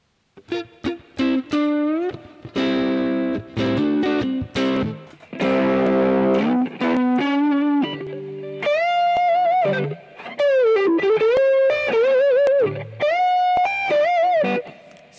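A J&D ST-mini Strat-style electric guitar in butterscotch blonde played through distortion and effects, with bursts of strummed chords and then sustained, bent single notes ringing loudly for about fifteen seconds.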